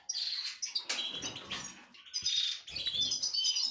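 Young goldfinches in a breeding aviary chirp and twitter in quick, overlapping bursts, bright and close, with a brief gap midway and faint rustling beneath.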